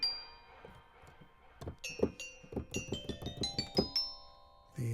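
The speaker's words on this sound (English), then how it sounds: "These are the Chinese chimes." Chinese chimes played as a sampled instrument, a run of bright metallic strikes rising into a quick rhythmic sequence of ringing tones with lingering high overtones, clear and upfront with no talking.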